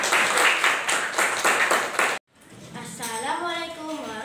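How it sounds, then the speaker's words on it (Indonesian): An audience at a school lesson on synonyms and antonyms claps in rhythmic bursts for about two seconds, then after a brief silence a voice speaks over a quieter background. "Tepuk tangan untuk semuanya."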